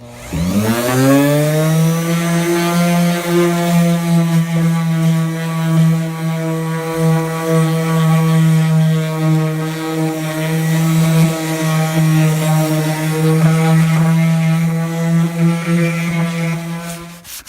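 A power sander works on the body of a bus being prepared for paint, giving a loud, steady motor drone with a strong tonal hum that spins up in the first second and holds almost unchanged for about seventeen seconds with no voices.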